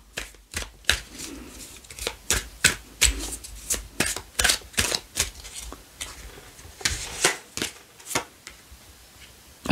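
Tarot cards are shuffled and drawn by hand close up, a long run of quick papery riffles and slaps in uneven bursts, with no talking.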